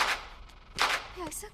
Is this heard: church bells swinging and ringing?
no